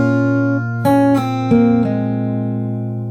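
A fingerstyle acoustic guitar plays a short melody from a Witcher song over a ringing bass, about five quick plucked notes in a rising-and-falling line, close and clear, then a fading sustain.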